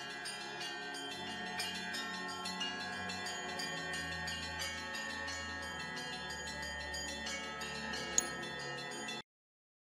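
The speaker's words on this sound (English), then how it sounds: "These bells are pissing me off." Bells in the video game Gray Dawn ring continuously in a dense, overlapping clangor, a steady resonant peal that cuts off abruptly near the end.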